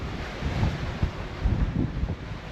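Steady wind roars across the microphone aboard a Leopard 50 catamaran under sail, with rushing water and gusty low buffeting rising and falling throughout, and no voices.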